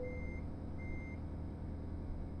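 Truck backing up in American Truck Simulator, steady electronic reversing beeps sounding twice in a row over a constant low diesel idle rumble, fairly quiet and with no talking.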